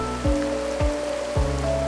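Rain falls in a steady, even hiss across the whole stretch, with a few heavier low thumps at regular intervals over a faint continuous drone.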